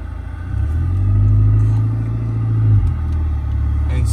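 A Volkswagen Mk4 car on a short test drive, its engine giving a steady low rumble that swells briefly as it accelerates, then settles into an even cruising drone inside the cabin.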